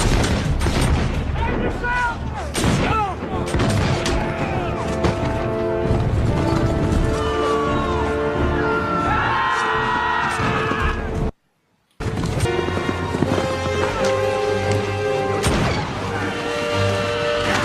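A musket volley erupts in the battle scene of the 2000 film The Patriot, with heavy booms and crashes amid shouted orders and dialogue, loud and dense, broken by a brief silent gap.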